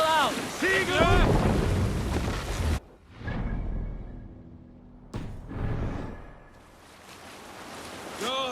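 A Viking longship under sail on open water in Assassin's Creed Valhalla, with wind noise and rolling waves washing around it, and a voice and music heard near the start.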